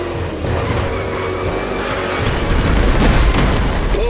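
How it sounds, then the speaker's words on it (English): NASCAR race cars in The Crew Motorfest, on an urban street circuit in Honolulu, Hawaii; loud engines roar continuously and swell toward the end, with a rumbling, close pack sound and no voices. "we are racing in a purely urban race here in Hawaii"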